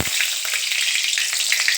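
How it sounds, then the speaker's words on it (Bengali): Dried red chillies hitting hot oil in a wok, a loud close continuous sizzle with a sharp initial burst, no voices. "কড়াইতে কত সুন্দর একটু তেল দিয়ে দিয়েছি তেলটা গরমও হয়ে গেছে এবার দিয়ে দেবো শুকনো লঙ্কা"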